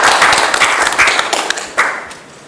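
A short round of audience applause at a Toastmasters meeting, brisk clapping that is loud at first and thins out toward the end.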